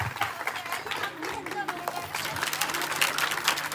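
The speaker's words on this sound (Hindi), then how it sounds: "मैम के लिए जोरदार तालियां।" An audience at a school program claps in a moderate, uneven patter, with crowd chatter mixed into the applause throughout.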